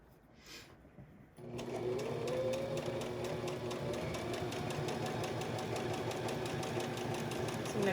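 A sewing machine back stitches a homemade fabric mask, starting after a brief pause and then running in a fast, even mechanical chatter of needle strokes, close and steady to the end.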